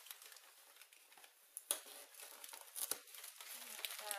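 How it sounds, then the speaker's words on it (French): Close, quiet crinkling and tearing of paper as a gift box sealed with tape is unwrapped, with irregular rustles and a few sharper crackles throughout. "désolée pour les bruits de papier"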